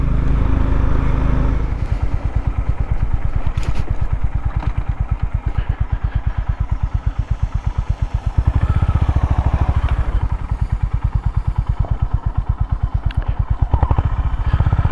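A Honda GB 350 S motorcycle being ridden, its single-cylinder engine thumping in a loud, steady, rapid pulse close to the microphone, with slight swells in speed and no talking.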